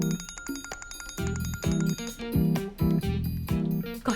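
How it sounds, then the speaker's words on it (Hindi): A phone rings with a bright, bell-like electronic tone, repeating in quick rhythmic bursts that sound close and clear. "ये तो मोइस की कॉल है।"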